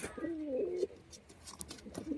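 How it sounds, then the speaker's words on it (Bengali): Pigeons coo at close range, one rolling coo followed by a shorter one, with faint rustling and clicks in a quiet room. "এই হচ্ছে পায়রার ডাক করা শুরু হয়ে গেছে"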